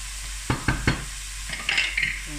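Garlic and onion sauté in a pan for fideuà, a steady sizzle broken by three quick scraping stirs and a few softer clinks of the utensil against the pan, with no talk.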